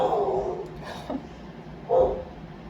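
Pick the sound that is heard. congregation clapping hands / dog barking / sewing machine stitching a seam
dog barking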